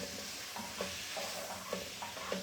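Fresh ground ginger is stirred in a pan with butter, garlic and cilantro, making soft, rhythmic scraping strokes over a quiet, steady sizzle, fairly faint and close.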